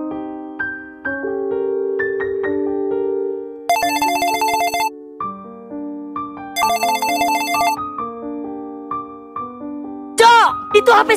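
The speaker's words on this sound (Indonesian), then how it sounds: "Itu HP si Jojo" A mobile phone ringtone plays a bright electronic melody of stepped tones, with two louder bursts of rapid trilling ringing between the phrases. It sounds fairly close and carries on alone with no talk over it.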